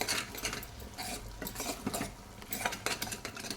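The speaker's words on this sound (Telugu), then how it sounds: "మసాలా, గరం మసాలా, పప్పుని ఇట్లా కలియబెట్టుకున్నాం" A spoon stirs mashed moong dal with garam masala in a pot, giving soft wet scraping and clinking against metal in an uneven rhythm. It is quiet and close.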